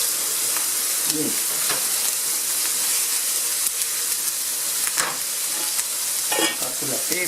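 Meat frying and being stirred in a pot for braised salted pork, with a steady sizzle and hiss throughout and repeated scraping, stirring knocks from a utensil, fairly close, with no talk.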